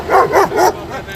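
A puppy lets out three quick, loud barks close by in a fire-damaged apartment setting, followed by a softer trailing whine.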